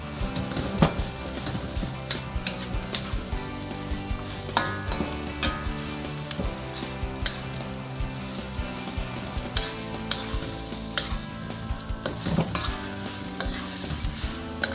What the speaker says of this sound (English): Just going to cook it up enough to get those shrimps nice and hot again.